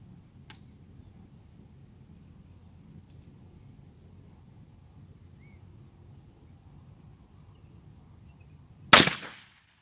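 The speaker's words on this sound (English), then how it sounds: "So now we're going to shoot the 410 shotgun shell." A Thompson Contender pistol firing a .410 shotgun shell outdoors: a single loud, sharp report near the end of a quiet stretch, with a small click early on and faint background hum.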